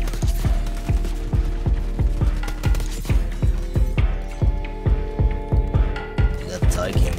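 Rapid gunfire from the Model L rifle in Call of Duty Black Ops 6, a regular string of sharp, punchy shots at a steady cadence over a low game hum, close and loud.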